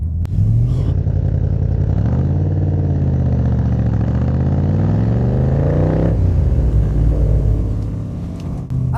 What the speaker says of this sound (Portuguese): esses motores V8 de Cleveland, eles podem ser bem comuns. 351 estão por toda parte nos Estados Unidos, mas para mim ainda soa absolutamente incrível